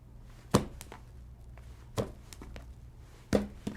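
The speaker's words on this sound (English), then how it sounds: "So we're going to slice and dice this deck." Tarot cards being cut and shuffled give three sharp slapping snaps spaced about a second and a half apart, each trailed by lighter card flicks, close and clear with no voices.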